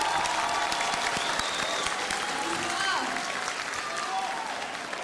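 A live crowd claps and cheers for a band, giving dense, sustained applause with voices mixed in, tapering slightly toward the end.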